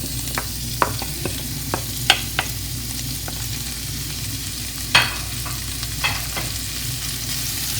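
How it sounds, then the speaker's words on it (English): Chopped onions sizzling in hot oil, with a continuous loud fry and repeated sharp scrapes and taps as they are stirred, close up and without talk. "Now we're gonna add the onions that we cut. We're gonna add it to this with oil, hot oil."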